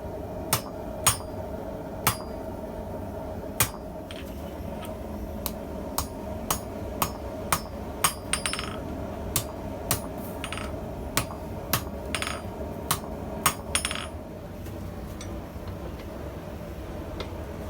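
Sharp metallic hammer strikes on hot steel ring out at an uneven pace, over a dozen blows with brief pauses, close and clear against a low background hum.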